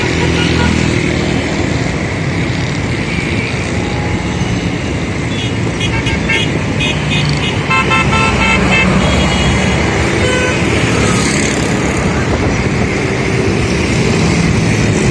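Car horns honk repeatedly over dense road traffic noise in a jammed street, with motorcycles and cars idling and revving nearby, loud and continuous, with faint voices in the background.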